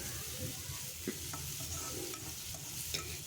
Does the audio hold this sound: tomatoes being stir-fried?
yes